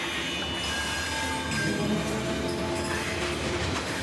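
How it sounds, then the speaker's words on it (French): Freight train La Bestia rolling across Mexico at about 40 km/h, loaded with cement, fuel or flour: a loud, continuous rumble of steel wheels and cars with faint metallic squeals, no voices. "ce train de marchandises traverse tout le Mexique à la vitesse de 40 km à l'heure"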